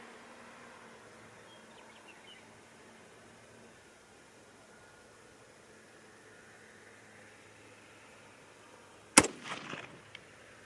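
A single sharp rifle report from a .224 Valkyrie or 6.5 Creedmoor rifle with a heavy-duty muzzle brake cracks out near the end after a quiet outdoor lull, followed by a brief rattling tail.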